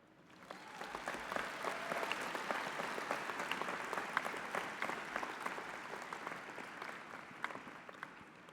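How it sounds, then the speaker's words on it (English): Steady applause from a commencement ceremony audience at an art college, rising after a brief start and holding evenly, fairly distant and soft. "they deserve a clap."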